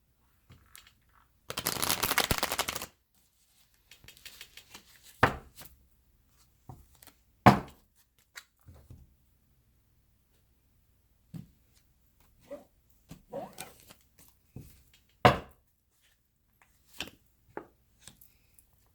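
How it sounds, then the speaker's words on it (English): Tarot cards are shuffled in a brisk riffle of about a second, followed by scattered soft taps and card handling noises in a quiet room. "we'll do one more shuffle and we will begin"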